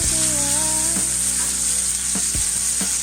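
A ribeye steak fries in a hot pan for medium rare, giving a steady, close, loud sizzle with a few soft clicks and pops over a low hum.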